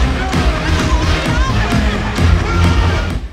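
Concert crowd at the Belasco cheering and shouting loudly over thumping music, a dense nonstop roar with screams rising above a pounding beat.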